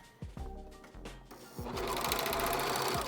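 A sewing machine stitches a fabric face mask, its motor whirring in short bursts at first, then settling into a steady, close, continuous run of rapid needle strokes.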